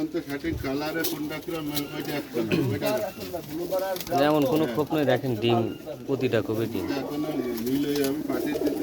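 Pigeons coo softly in low, rolling calls on a pigeon farm, beneath someone talking close up.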